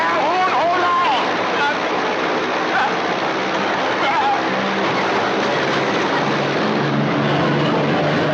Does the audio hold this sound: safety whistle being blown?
no